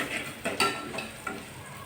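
Pumpkin seeds, watermelon seeds and mustard seeds roast in a pan, giving faint, quiet bursts of crackling and stirring scrapes in short irregular pulses, with no talk.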